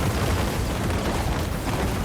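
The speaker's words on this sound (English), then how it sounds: "it looks like maybe it's a large area bombardment" Large area bombardment ability from Total War: Warhammer 3 exploding in a battle between Tzeentch and Ogres at a minor settlement: a dense, continuous roar of blasts and rumbling impacts, loud and sustained throughout.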